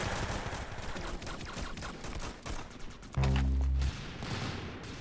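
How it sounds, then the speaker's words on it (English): A big machine gun in Roblox Arsenal fires in rapid sustained bursts, dense and continuous, with a short louder stretch of heavy gunfire near the end. "There's a delay with that big machine gun."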